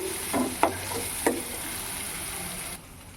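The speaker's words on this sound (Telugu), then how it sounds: "క్యాప్సికమ్ వేసుకొని బాగా వేయించుకోవాలి పచ్చిదనం పోయేంత వరకు" Capsicum fries and is stirred in a pan while cooking bisi bele bath, giving a steady close sizzle with a few sharp scraping stir strokes early on before the sound cuts to quiet.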